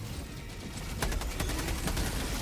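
Heavy machine gun fire in the Helldivers 2 video game, a rapid string of loud bursts starting about a second in over a constant rumbling battlefield din, with no talk.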